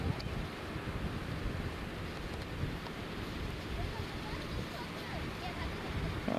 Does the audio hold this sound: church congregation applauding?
no